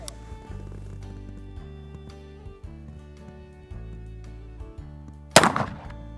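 A single sharp, loud crack from an Uberti Schofield revolver fired outdoors at a 12 gauge shotgun shell, arriving near the end over steady background music.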